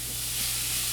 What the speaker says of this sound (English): Stir it in there real nice